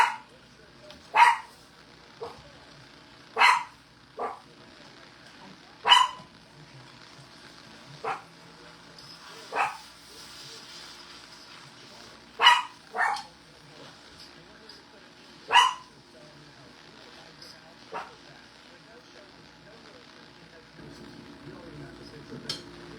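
Lily, a dog, barks at stray dogs in short sharp bursts, roughly a dozen scattered single and double barks that are fairly near against a quiet background.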